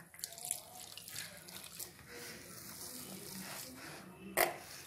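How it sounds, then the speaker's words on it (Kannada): Water is poured into flour dough for maddur vada and worked by hand, producing soft splashes and wet squelching up close, with a sharper splash near the end. "ಇವಾಗ ನೀರು ಹಾಕ್ಕೊಂಡು ಕಲಸ್ಕೊಳ್ಳೋಣ."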